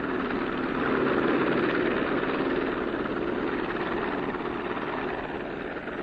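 A helicopter's steady rotor and engine roar, loud and continuous throughout, with a broad rumbling drone that holds nearly constant.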